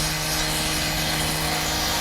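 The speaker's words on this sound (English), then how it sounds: "They drilling." Construction workers drilling nearby: a dense, steady mechanical roar with a constant tonal hum, loud and unbroken across the short stretch, with no voices.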